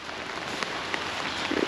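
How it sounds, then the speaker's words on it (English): Steady rain falls outdoors on a morning after stormy overnight weather, a dense even hiss with a few sharper drops standing out near the end. "but it's still raining."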